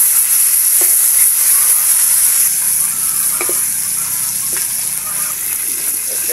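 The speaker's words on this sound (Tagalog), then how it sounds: "Tapos natin magprito, magigisa na po tayo." Fried meat sautés with garlic and onion in a hot pan, a steady loud sizzle with a hissing, bright wash that never lets up, broken by a few light stirring clicks.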